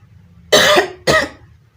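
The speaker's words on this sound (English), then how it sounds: "I'm still coughing a bit." Two sharp, close coughs from a person recovering from COVID-19, in quick succession, with a brief pause between them and near silence around.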